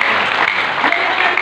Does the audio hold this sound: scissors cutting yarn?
no